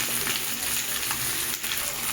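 Cut eggplant pieces drop into a pan of frying morola fish, potatoes and onions, giving a loud continuous sizzle and crackle up close with a few stirring scrapes.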